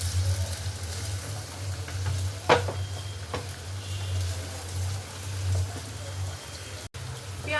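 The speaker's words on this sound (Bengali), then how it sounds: "আর এখানে আমি পেঁয়াজ ভাজার জন্য পেঁয়াজ দিয়ে দিচ্ছি, কুচিয়ে রাখা পেঁয়াজ।" Chopped onions frying in a pan make a steady, moderate sizzle over a low background hum, with a couple of brief utensil clinks and a short dropout near the end.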